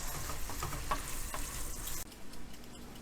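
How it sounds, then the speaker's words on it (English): Shrimp fry in a pan for étouffée, a steady close sizzle with faint scraping clicks that drops to a quieter simmer partway through. "we're going to cook the shrimp till it's just barely getting pink"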